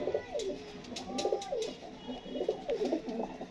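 Pigeons coo in soft, repeated throaty rolls, several birds overlapping at a steady rhythm, fairly close but quiet, with faint background chirps and no talking.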